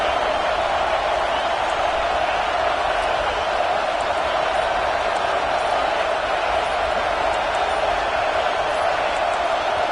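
Steady, loud stadium crowd roar filling a football game, a continuous dense wash of noise with no pauses, rising in support as the offense is forced into a false start.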